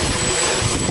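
Small drone motors running at full throttle, a dense, steady high-pitched propeller whine and roar filling the short moment without break, loud and close.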